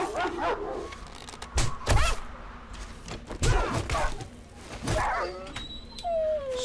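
A dog in the survival game 7 Days to Die whimpers and yips in short, rising whines, repeated several times over a few seconds, close and fairly loud amid other in-game noises.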